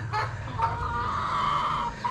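Chickens on a small Philippine poultry farm cluck steadily at close range, a dense continuous chorus of hen calls over low background rumble, with no talking.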